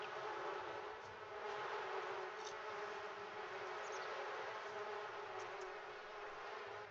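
A swarm of bees in The Sims 4 drones steadily and evenly throughout, a close, unbroken buzzing hum with faint clicks scattered over it and no voices.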